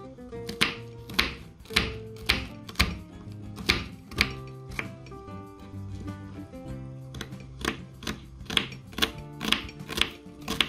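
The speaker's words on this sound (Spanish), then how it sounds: "Voy a partir la cebolla." A knife chops an onion on a cutting board in steady, regular strokes, a crisp thud roughly every half second, close and clear over soft background music.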